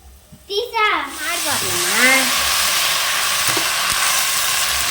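A voice speaks briefly, then hot oil bursts into a loud, steady sizzle as tempering spices hit the pan and keep frying, already burning.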